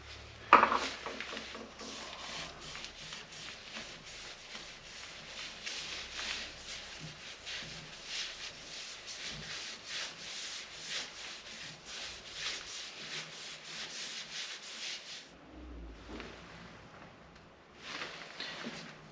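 Yorkshire grit abrasive paste rubbed steadily into a stone edge, a continuous close gritty scraping that runs for most of the clip, breaks off briefly near the end, then resumes.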